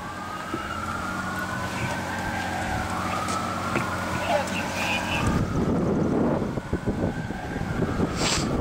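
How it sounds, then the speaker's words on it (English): Emergency vehicle sirens wail and sweep up and down over rumbling traffic noise, fairly close and loud, continuing throughout. "EMS has also been paged by now, and they are responding. You can hear the sirens."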